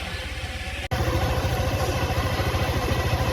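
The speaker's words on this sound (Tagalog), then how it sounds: "medyo pinapainit ko lang ng konti yung uh, motor" A motorcycle engine idles while warming up, a steady close putter with a brief dropout before the idle carries on evenly.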